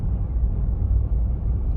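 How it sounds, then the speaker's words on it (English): Truck heater blowing in cold weather, a steady low rumbling whoosh filling the cab, loud and continuous with no other sounds. "I don't know if you can hear the heater in the truck"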